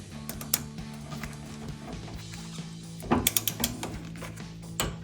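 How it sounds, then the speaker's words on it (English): Torque wrench working on rear brake caliper bolts of a 2015-2023 Mustang EcoBoost with C&L Performance Series calipers, giving quick ratcheting clicks in short bursts over a low mechanical hum nearby. "Apparently my torque wrench moved from 24 to 25 because I didn't lock it correctly."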